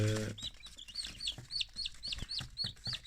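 Newly hatched chicks in an incubator peep in a rapid, regular series of high chirps, close and clear, one of them a chick that came out lame.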